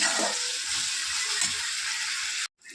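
Onion and spice paste frying in a pan while cooking a crab curry: a steady, bright sizzle close up, with soft stirring scrapes underneath, cutting off abruptly at the end.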